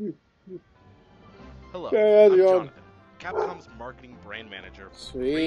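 A dog barks and yips indoors, a few short calls and one longer whining bark, heard under and between a man's steady speech.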